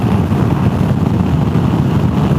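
Steady, loud wind roar buffets a rider on a Honda Africa Twin motorcycle with a lowered windscreen, a broad, constant rumble with no break and no voices.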